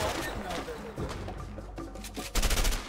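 Submachine gun fire rattles in rapid bursts in the video game A Way Out, dense and loud throughout, with voices talking over the shooting.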